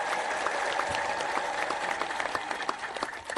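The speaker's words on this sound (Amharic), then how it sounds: "ጭብጨባ ላይ ንፍገት ይታያል።" Congregation at a church gathering applauding steadily, a continuous dense clapping crowd that carries on without a break and loosens slightly at the close.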